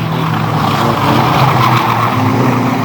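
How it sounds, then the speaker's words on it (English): A race car spins and skids on the home straight at Bovingdon Raceway, with loud, continuous tyre scrubbing over a steady engine roar that lasts the whole short stretch. "As Baz Williams does another pirouette here on the home straight,"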